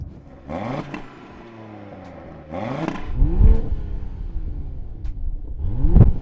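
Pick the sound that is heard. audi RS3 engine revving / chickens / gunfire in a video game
audi RS3 engine revving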